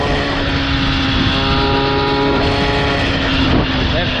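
Small MBK 40 moped two-stroke engine held at full throttle, a steady high-pitched buzzing drone that stays loud and constant throughout, with slight wavering near the end.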